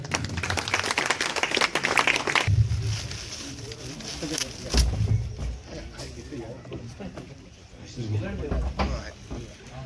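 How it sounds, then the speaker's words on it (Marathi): Crowd clapping at a Marathi poetry book launch, loud at first then thinning into scattered claps, with people talking over it and occasional knocks and movement in the room. "आपण त्याचं जोरात टाळ्या वाजवून स्वागत करूया"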